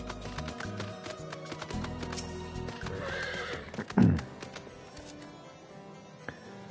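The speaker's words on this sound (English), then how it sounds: "I'm sure no one will mind me riding a horse up the stairs." A unicorn mount in the Final Fantasy XIV video game climbs stairs, its hooves clip-clopping in a steady rhythm before a single loud, close whinny rises and fades, followed by more hoof taps and faint background game sounds.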